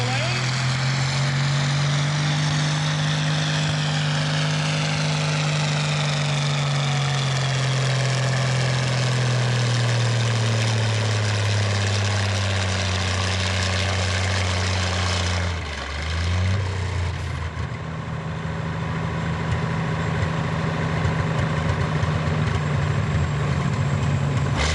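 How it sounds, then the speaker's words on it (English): Tractor engines at a Memorial Day 2007 tractor pull roar loud and continuously, with the pitch swelling and sagging as the pull goes on and a brief dip near the end. "Let's watch a couple of more tractor pulls."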